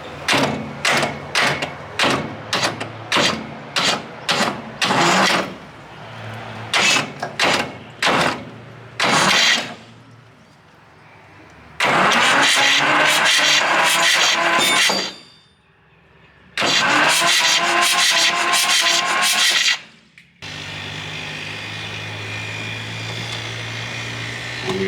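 An abandoned diesel engine cranking in rapid rhythmic bursts, stalling briefly, then catching and running loud and rough in long stretches before dropping to a steadier idle.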